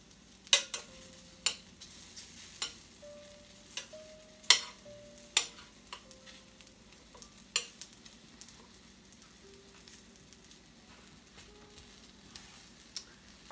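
Pork and mushrooms with Asian seasoning and a splash of olive oil sizzle steadily in a pan, broken by sharp scraping taps of a utensil stirring at irregular intervals; no voices.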